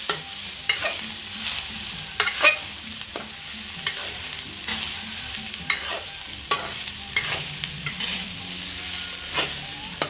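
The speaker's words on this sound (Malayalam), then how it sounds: "നന്നായി ഇളക്കടാ" A spatula stirs soybean roast in a frying pan, with continuous low sizzling and irregular scraping knocks against the pan over about ten seconds, close by and without voices.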